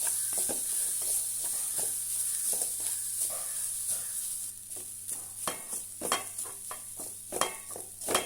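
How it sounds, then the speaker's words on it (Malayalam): Dry crackling and scraping as grated coconut is stirred and roasted in a hot pan, a steady sizzle at first giving way to separate spatula strokes. "തേങ്ങ നല്ലതുപോലെ ഒന്ന് മൂപ്പിച്ചെടുക്കണം നമുക്ക്."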